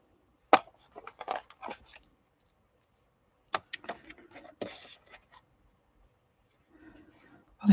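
Craft pieces being trimmed down, with a few short dry snips and crunches in scattered clusters separated by quiet gaps, close and fairly faint.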